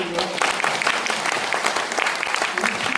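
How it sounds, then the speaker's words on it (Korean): Audience applause at a national assembly forum on barefoot walking, a loud, continuous round of clapping from a seated crowd with a voice briefly heard over it. "박수 한번 부탁드려요."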